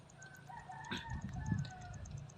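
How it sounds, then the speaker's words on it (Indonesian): A rooster crows faintly in the distance, its call rising once and trailing off over a low background hum, with no voices. "Terdengar juga suara ayam yang berkokok ya teman-teman"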